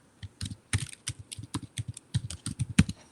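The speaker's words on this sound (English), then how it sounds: "I hear typing." Keyboard typing during an online pub quiz, a run of quick irregular key clicks spread across about three seconds, close and fairly clear with no talking over it.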